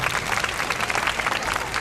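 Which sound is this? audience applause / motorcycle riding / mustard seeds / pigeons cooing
audience applause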